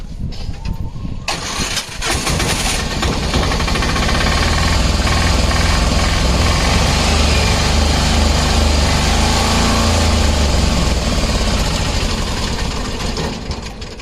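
A 2020 Piaggio Ape Xtra LDX three-wheeler with a BS4 engine cranks on the self-starter, catches, and settles into a loud, steady, rattling idle close by that continues to the end, with no talking.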